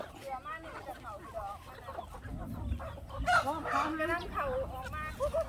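Chickens cluck and squawk in a busy flock nearby, with people talking faintly in the background.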